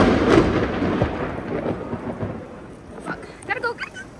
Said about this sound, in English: So it's raining really hard outside, so we can't leave yet.